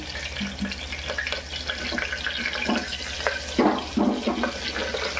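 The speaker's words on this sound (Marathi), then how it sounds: "जिरा जरा तडतडू द्या" Cumin seeds and cinnamon crackle in hot oil in a home kitchen, giving irregular sharp pops and spits that grow busier toward the end, with no talk.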